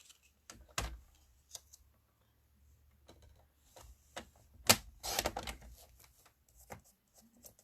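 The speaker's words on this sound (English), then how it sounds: "So I'm going to pull out my stamp trimmer." Sharp paper-cutting snaps and slicing strokes from a stamp trimmer, a few spaced clicks then a quick cluster, close by and fairly quiet.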